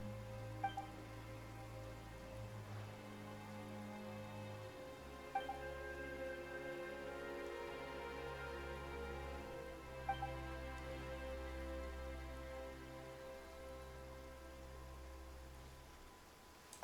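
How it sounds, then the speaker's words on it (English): Soft, steady rain falling in a video game, a faint wash of patter beneath a sustained musical score with low drones, continuous and quiet throughout. "Why is it raining all of a sudden?"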